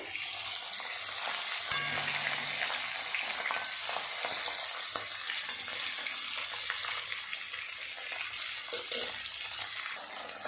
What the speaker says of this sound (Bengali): এই মাছগুলো সব ভাজা হয়ে গেছে